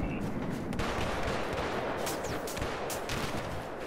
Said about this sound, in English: I can't fucking see him, but he's shooting at me.